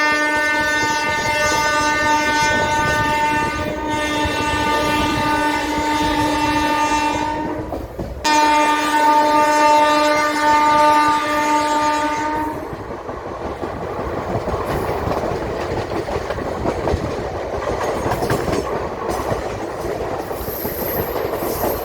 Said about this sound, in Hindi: तो दोस्तों 2 मिनट बाद हमारी ट्रेन छूट चुकी है इटावा जंक्शन से।